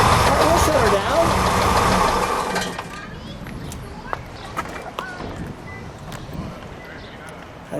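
A red 1964 Chevrolet Corvair Monza Spyder engine idles close and loud with a steady rumble for a few seconds, then shuts off. Quiet surroundings with scattered small clicks follow.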